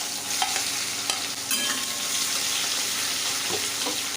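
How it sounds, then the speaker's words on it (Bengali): Sliced onions dropped into hot oil with cinnamon, cardamom, bay leaves and a dried chilli for a raw banana kofta curry, frying with a steady loud sizzle and a few clinks and scrapes of stirring, no voices. "পরে দিচ্ছি পেঁয়াজগুলো,"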